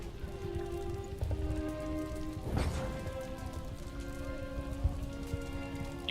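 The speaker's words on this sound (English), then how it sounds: "it was pouring rain too" Heavy rain falling during a battle in Total War: Empire, a dense steady patter with a short louder burst partway through.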